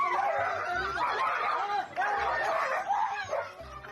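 A dog being teased gives a series of short, close yips and barks in uneven bursts, mixed with whimpering and voices talking in between.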